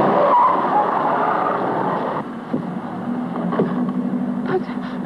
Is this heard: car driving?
yes